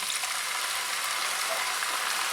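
Vinaigrette poured into a hot pan while making a warm Liège-style salad, giving a steady, close, bright sizzle and hiss that holds evenly throughout with no talk over it.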